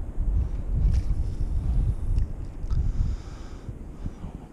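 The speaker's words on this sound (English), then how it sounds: "The wind's not going to help very much." Winter wind buffets the microphone outdoors at a shallow flat while someone is fishing for channel catfish, low rumbling gusts rising and falling in waves under a faint higher hiss, with no speech.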